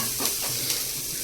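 Fresh curry leaves drop into hot oil in a pan and crackle into a steady sizzle that lasts for a moment, close and fairly loud, with no voices.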